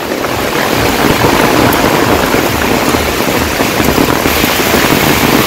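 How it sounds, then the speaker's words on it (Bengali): Heavy rain pours down in a village, a loud, dense and unbroken wash of drops hitting surfaces close by, with no speech. "সেই রকম বৃষ্টি নামছে"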